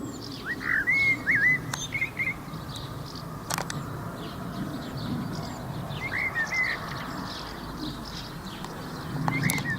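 A blackbird sings in a priest's village garden in short, clear whistled phrases spaced apart, moderately distant over a low outdoor background with a few sharp knocks.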